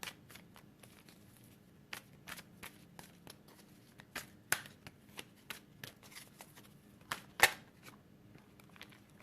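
Tarot cards being shuffled by hand, a steady run of crisp riffling snaps and soft flutters at close range, with a few sharper slaps standing out, no voice heard.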